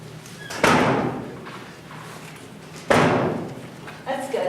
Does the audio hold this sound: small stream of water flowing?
no